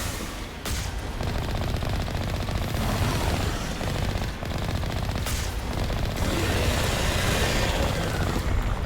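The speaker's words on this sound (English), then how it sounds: "Keep shooting at me." Sustained rapid gunfire in the Mass Effect video game, loud and close. Bursts rattle almost nonstop for nearly nine seconds, with a few brief sharp gaps between volleys and no talking.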